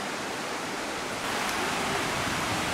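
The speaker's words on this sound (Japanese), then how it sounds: "この龍勢の滝のすぐ隣に銀河の滝という滝がもう一つ並んでいて、ここ滝二つ楽しめるポイントなんですよね。" The twin Ryusei and Ginga waterfalls at Rubeshibe, two falls about 120 meters high standing side by side, pour with a steady, dense roar of rushing water that holds unbroken throughout with no voices.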